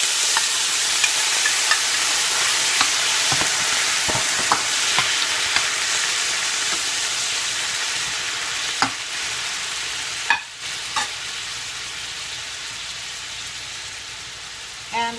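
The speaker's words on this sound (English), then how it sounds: "Now I'm adding the veggies, so we can stir fry this for a minute or so." Mixed vegetables stir frying in olive oil in a pan for a ribeye steak stir fry, with a steady broadband sizzle throughout and scattered scrapes and clacks of stirring, no talking.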